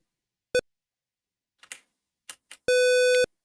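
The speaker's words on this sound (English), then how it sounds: "Yeah, but it's always meant to go beep, not just sometimes." A CHIP-8 interpreter program emits a short electronic tone, then after a few faint keyboard clicks sounds a longer, louder steady beep lasting about half a second.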